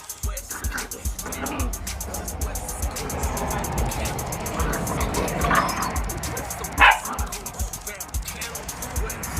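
Pit bull puppies yip and bark in short, scattered bursts amid household background noise, with one sharper yelp standing out near the end.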